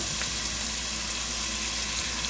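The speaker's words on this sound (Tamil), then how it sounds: "இந்த இடித்து வச்ச ஏலக்காயும் கராம்பும் கருவேப்பட்டையும் இதோடு நான் சேர்க்க போகிறேன்" Crushed cardamom, cloves and curry leaves frying in hot oil for a spicy mutton curry, a steady close sizzle with a faint crackle and no voices.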